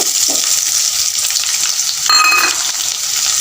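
Steady, loud sizzling of chopped onions frying in a pan until golden, a continuous crackling hiss with a brief stirring scrape partway through.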